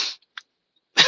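A voice imitates a man's soft cough: a brief breathy burst, a tiny catch, then another short hacking puff, all close and dry.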